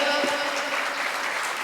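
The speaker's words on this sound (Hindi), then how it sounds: "ताली बजाइएगा।" Dense, steady clapping from a large audience at a Jain religious gathering, a full wash of applause filling the moment.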